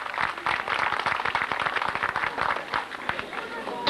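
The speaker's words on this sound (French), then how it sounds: "les applaudissements du public" Audience applauding at a FSGT French cyclo-cross championship podium ceremony in Lacenas, 1993: steady crowd clapping throughout, with a voice talking over it.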